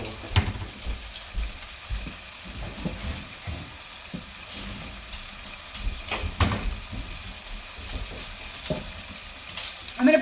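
Chorizo frying in a pan, with a steady sizzle and scattered stirring scrapes and clicks over about ten seconds, a couple of sharper knocks near the end.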